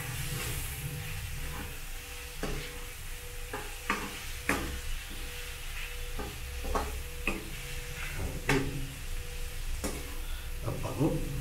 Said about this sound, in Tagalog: Sabay halo.